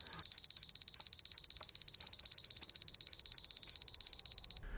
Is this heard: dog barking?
no